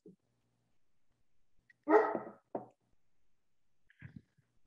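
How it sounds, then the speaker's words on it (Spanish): A small dog barks a few times indoors, one louder bark followed by a shorter one and a fainter yip after a pause, heard alone with no talking. "qué pena es que el perrito está como muy..."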